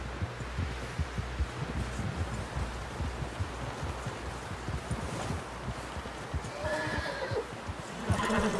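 A horse in Red Dead Redemption 2 neighs and whinnies near the end over steady hoofbeats and rustling outdoor ambience, with no talking.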